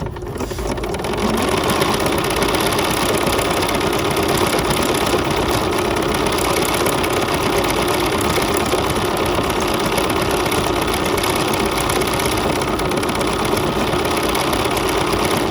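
A BERNINA sewing machine with a No. 40 presser foot stitches a decorative pattern, its motor giving a steady, close, continuous whirring hum that runs without pause throughout.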